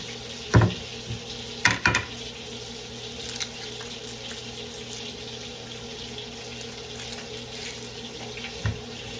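Water running from a kitchen tap as an onion is rinsed under it, a steady faucet stream with a few louder splashes and knocks near the start and one near the end.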